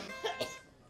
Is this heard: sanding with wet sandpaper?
no